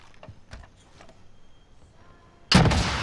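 A loud burst of rocket fire in the Call of Duty video game erupts suddenly after a stretch of quieter scattered game noises, then roars on, sustained and close.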